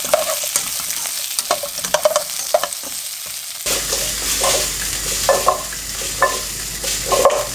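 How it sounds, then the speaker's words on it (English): Pak choi and carrot with garlic stir-fry loudly in a hot pan, sizzling continuously while utensils scrape and clatter in an uneven rhythm, and the sizzle intensifies partway through. "stir fry these beautiful vegetables"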